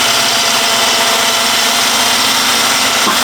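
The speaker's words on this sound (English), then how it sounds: "we'll soon get through that with an angle grinder" An angle grinder cuts through spot welds on the body of a T5 Transporter van, a loud, steady, high-pitched whine with grinding noise that holds for about three seconds and then stops abruptly.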